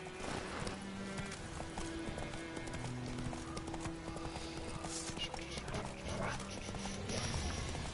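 Horse hooves gallop in a steady clip-clop rhythm in The Witcher video game, with occasional whinnies, layered over a dense in-game music bed and ambience, continuous and fairly loud throughout.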